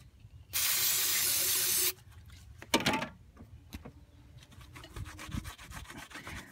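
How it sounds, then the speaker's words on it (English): Brake cleaner hisses from an aerosol can in one loud, steady burst of about a second and a half onto an oil cooler housing part of a BMW 535i, followed by handling clatter and light rubbing. "Shoot some brake clean on there."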